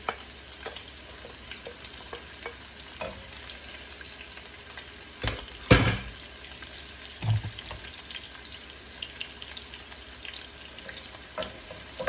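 Chopped onions and green chilies fry in a pan for a breakfast vegetable bhaji, giving a steady low sizzle with a few louder clanks of stirring near the middle.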